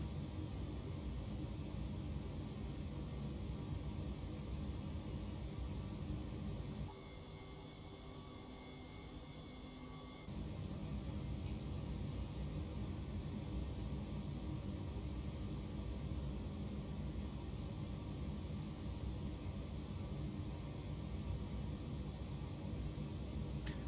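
An MD-11F cargo airliner taking off in the X-Plane 12 flight simulator, a steady broadband engine roar that holds loud and continuous throughout, with a brief dip and change in tone partway through.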